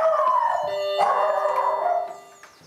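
Several dogs howl together in long, wavering near tones, with a few sharp barks mixed in, before the chorus fades out toward the end.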